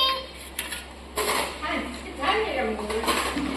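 Plates and dishes clink and clatter as they are handed out in a family home, with light ceramic knocks scattered under steady conversation.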